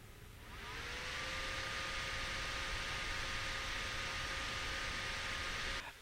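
A desktop PC with an ASUS i5 750 Socket 1156 motherboard powers up into a loud, steady fan whoosh with a faint rising whine, running continuously before cutting off near the end.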